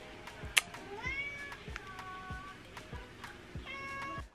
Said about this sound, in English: This cat is always yelling at me like I got something.